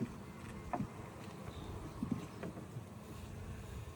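Honey bees buzz steadily around an open Langstroth hive during a blackberry nectar flow, a continuous insect hum under light wind noise with a few brief, sharper buzzes as individual bees pass near.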